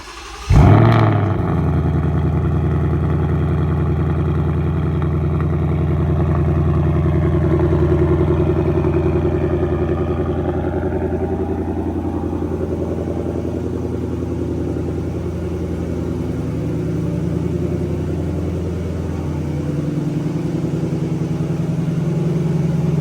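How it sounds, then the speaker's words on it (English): A car engine cold-starts with a sharp crank and catch, then settles into a steady, even idle that hums on without any voices. "let's do a little cold start"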